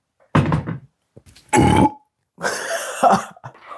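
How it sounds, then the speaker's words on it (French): Three loud, close burps come in quick succession, each a raspy guttural belch, the last one longest and drawn out. "c'était vulgaire, le rot"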